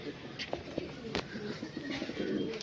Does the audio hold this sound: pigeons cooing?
yes